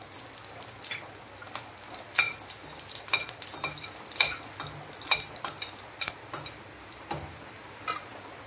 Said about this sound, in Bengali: তেল গরম হয়ে আছে, এই যে দারচিনি, এলাচ, লবঙ্গ আর একটু জিরে দিয়ে দিলাম।